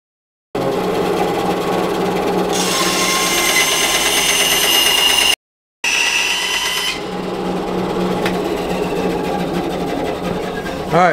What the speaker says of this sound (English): we'll take it over to the bandsaw and cut them out